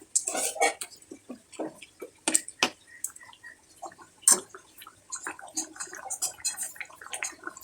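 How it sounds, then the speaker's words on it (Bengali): Water poured into a pot of sona moong dal cooking with a katla fish head: scattered drips, splashes and liquid gurgles in uneven bursts, fairly close. "আর একটু জল আমি দিয়ে দিলাম।"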